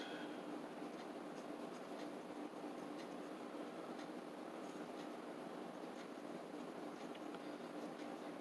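A pencil sketches a paint tube on paper in a continuous scratchy hiss of strokes, faint and close, with small tapping ticks scattered through it.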